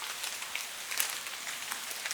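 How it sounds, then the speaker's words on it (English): Steady rain in the forest of Kingdom Come: Deliverance 2, drops pattering on branches and leaves in a soft, even hiss with scattered closer ticks, continuous and alone throughout. "other rain sound plays over, so you hear like the drops hitting branches and leaves"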